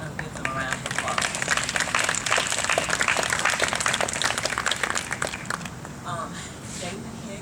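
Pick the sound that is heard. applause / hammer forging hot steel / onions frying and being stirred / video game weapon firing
applause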